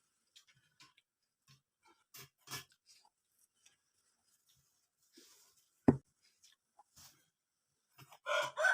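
A chicken in the Philippine countryside gives short clucks and a strained crowing call amid sparse quiet gaps, with a few scattered knocks and rustles nearby.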